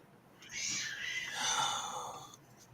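An unhappy cat gives one drawn-out, whining meow, faint and thin, lasting about two seconds over quiet background noise.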